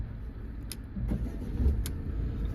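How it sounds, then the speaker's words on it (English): A Peugeot car engine cranks and catches in a short start, close by, with a brief rise in engine rumble and no talk. "Foot on the brake, start."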